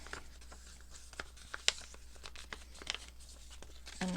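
Paper being folded into thirds for a junk journal pocket gives soft, faint crinkles and light creasing rustles, with quiet scattered crackles and no talking.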